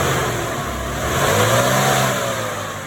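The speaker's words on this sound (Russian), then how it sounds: "смотрите, насколько ровно работает двигатель" A Mercedes W202 Kompressor car engine, newly replaced, runs steadily close by, with a smooth, continuous rumble that rises slightly midway and eases off at the end.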